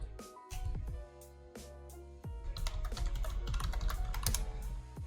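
Computer keyboard typing in a burst of rapid, clattering keystrokes close up, a few spaced taps first and then a dense, continuous run of clicks; no talk.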